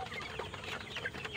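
Red chickens on a poultry farm cluck steadily, a dense overlapping chorus of short calls from many birds, moderately close and continuous with no talking over it.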